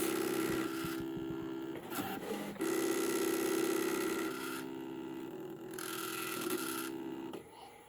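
A cutting machine slices printable iron-on vinyl on a mat, its carriage buzzing in stop-start whirring runs with short pauses and shifting pitch, fairly quiet and close.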